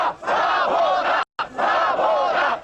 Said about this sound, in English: shouts of down with the Communist Party